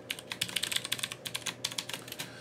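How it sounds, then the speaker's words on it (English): Password being typed on a computer keyboard at a login screen: a quick, fairly quiet run of close key clicks in an uneven rhythm, with no talking. "So I'm going to type in my password."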